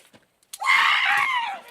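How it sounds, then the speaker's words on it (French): Cry of rage performed during a film shoot, a single sharp, loud, strained scream lasting about a second after a brief click, heard alone. "C'est vraiment des cris de rage un peu, tu vois, des petits cris de rage quoi."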